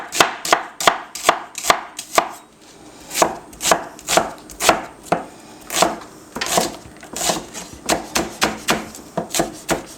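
Knife chopping a red onion on a board: quick, steady, evenly spaced chops in sharp close taps that continue for several seconds without talk.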